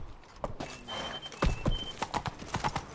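The horse Roach galloping in The Witcher III, with a few quick hoof clops and thuds over a short stretch and a faint background tone, no voices.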